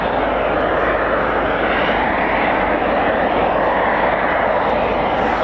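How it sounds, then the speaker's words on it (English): Italian Air Force Eurofighter Typhoon jets departing at RAF Coningsby, a loud, steady broadband roar of jet engines that holds throughout without fading. "our last departures coming up"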